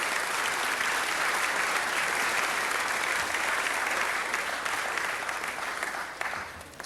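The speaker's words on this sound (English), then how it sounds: "Let's give them a round of applause for supporting us." A city council meeting audience applauds continuously for nearly seven seconds, a dense, steady wash of clapping from many hands that begins to fade just before the end.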